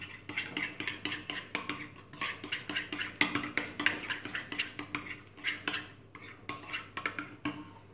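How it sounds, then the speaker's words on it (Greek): Spoon clinking and scraping against a bowl while pasta salad dressing is stirred, a steady run of close, rhythmic knocks and taps with no talking. "Ανακατεύω καλά."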